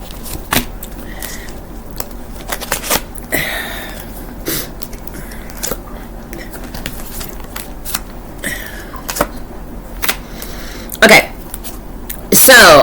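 Tarot cards are shuffled in short bursts of riffling and sliding, with clear pauses between them and a few brief clatters near the end.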